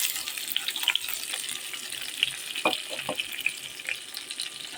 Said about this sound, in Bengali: এই যে পেঁয়াজ কুচি রসুন কুচি মরিচ কুচি এগুলো এখন আমি দিয়ে দেবো